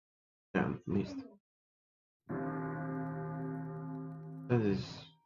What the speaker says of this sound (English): That is the early dinner bell.